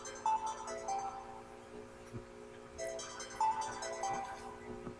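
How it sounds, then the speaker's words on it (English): A mobile phone rings faintly in the background, a repeating two-note electronic tone pattern sounding twice in a steady cycle over a low hum. "that noise in the background is actually my mobile phone going off"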